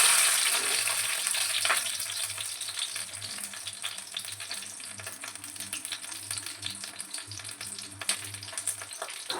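Green masala mackerel fries on a banana leaf in an oiled nonstick pan, giving a steady close sizzle with fine crackling spatters throughout and no voices.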